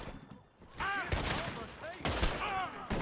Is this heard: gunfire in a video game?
yes